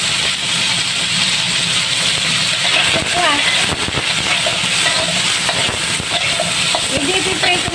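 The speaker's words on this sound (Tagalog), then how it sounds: "I-deep-prito natin siya ng konti" Steady broadband sizzling of small anchovies deep-frying in hot oil, with soft stirring clatter and occasional faint background chatter.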